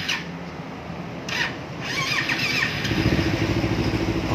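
A motorcycle engine starts up close by and settles into a steady, even idle that holds to the end, during an ignition coil and sensor error-code check.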